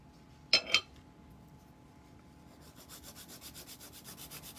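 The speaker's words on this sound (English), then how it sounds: "I'm gonna go ahead and just use our 100 grit file here." A 100 grit file shaping cured hybrid gel nails: two quick scrapes near the start, then a soft, even run of rhythmic back-and-forth rasping strokes, close and fairly quiet.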